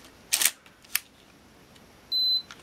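A Canon AE-1 Program film camera fires its shutter with a sharp mechanical snap and a second lighter click, followed by a brief steady electronic beep, close and isolated with no talking.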